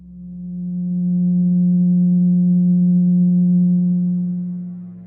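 A steady, pure 180 Hz sine tone holds one low pitch throughout, fading in gently at the start and easing off at the end, with nothing else around it.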